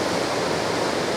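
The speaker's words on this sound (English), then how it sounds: "This water's coming down" The flooding Merced River rushes in a dense, steady roar of churning water, loud and close with no break.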